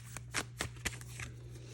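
Tarot cards being shuffled during a reading, producing a short series of papery riffles and soft slaps in a quick, uneven rhythm, close and clear over a low steady hum.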